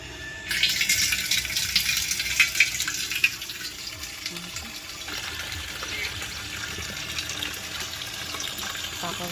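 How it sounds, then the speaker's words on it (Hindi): Water runs from a village tap into clay pots, starting abruptly as a bright gushing splash that settles into a steadier, fainter pour as the vessel fills. "तो मैं भरूँ पानी की मटकियाँ।"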